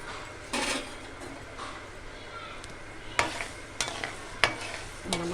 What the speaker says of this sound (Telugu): మెంతులు వేగేయండి